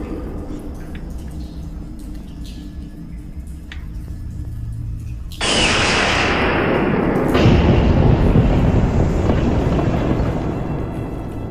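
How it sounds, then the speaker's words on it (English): Quiet crackling gives way to a sudden loud blast, followed by a deep, sustained rumbling roar like an explosion rolling into thunder; a sound effect made from altered thunder recordings. "used 2 of my thunder sounds and messed with them a little bit to make it sound like an explosion"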